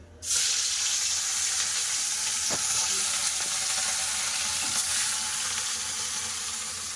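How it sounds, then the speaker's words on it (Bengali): Rohu fish hits hot mustard oil and erupts into a loud, sustained close sizzle that starts abruptly and continues steadily, with a faint tap or two underneath and no speech. "সরষার তেল কড়া তেল গরম হয়ে গেছে এবার মাছ দিয়ে দেবো এক এক করে"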